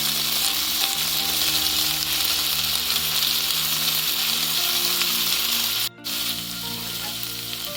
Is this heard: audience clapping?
no